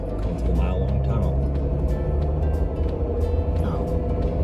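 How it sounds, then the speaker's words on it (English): A car drives through the mile-long tunnel at Zion, giving a steady, enclosed low rumble of engine and road noise that fills the whole stretch, with faint voices murmuring beneath it. "Going through the mile-long tunnel."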